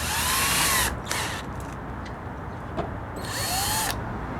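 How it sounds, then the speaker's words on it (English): A power drill with a cotton swab in its chuck whines at high speed, spinning in two loud bursts with a quieter pause between them, close by. "Q-tip in the drill."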